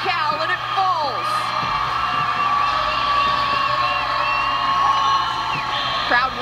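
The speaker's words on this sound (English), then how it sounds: "Crowd once again going wild here at Haas." Crowd at Haas Pavilion erupting in loud, sustained cheers, whoops and yells after a long rally and Cal block in a Stanford at Cal women's volleyball match, with shrill whistles and whoops rising over a steady roar.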